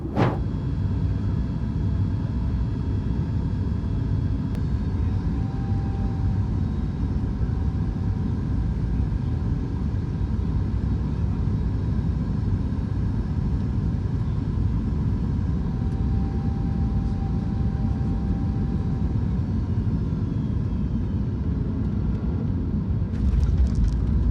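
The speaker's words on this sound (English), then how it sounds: "Soon enough we started our descent and approach into Malaga" Steady broadband roar inside a Ryanair jet cabin as it descends toward Malaga, a dense low rumble with a faint whining tone, continuous and unchanging throughout with no voices.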